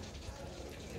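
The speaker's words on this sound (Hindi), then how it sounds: "बारिश भी साथ हो रही है ना यार।" Steady rain falls outdoors on a cold day, a dense, even wash of patter with no distinct drops standing out, fairly close and continuous throughout.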